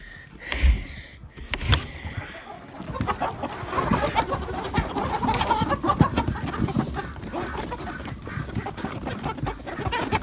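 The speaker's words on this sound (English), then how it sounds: "This is going to be the chickens' first taste of snow." Flock of chickens clucking and squawking as they venture out into snow for the first time, a busy continuous chatter of overlapping calls from close by, with a few louder thumps early on.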